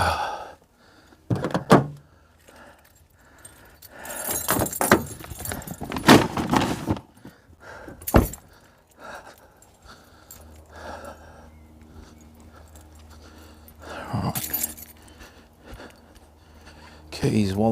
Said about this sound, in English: Keys, wallet and phone in the front, like so